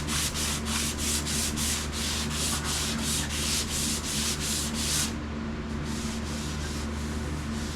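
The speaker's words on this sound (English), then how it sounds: "I'll get all that hand sanded." A surface is sanded by hand in quick, regular back-and-forth scratchy strokes, close and loud, with the rhythm shifting slightly after a brief change partway through.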